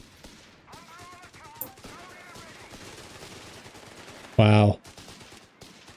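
Gunfire and grenade blasts from a Company of Heroes 3 battle, with scattered shots under a commentator's voice, then one loud explosion bursting out near the end.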